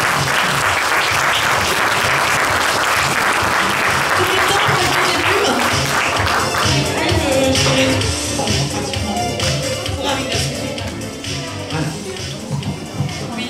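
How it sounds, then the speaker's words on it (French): An audience at a cosplay contest breaks into loud, sustained applause with scattered taps and shuffling, easing slightly toward the end as voices and background sounds come through. "Vous pouvez applaudir"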